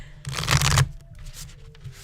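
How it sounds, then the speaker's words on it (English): A deck of oracle cards shuffled in one brisk, close riffle lasting about half a second, a loud papery burst that then drops to quiet room tone with faint handling. "I haven't shuffled these very much."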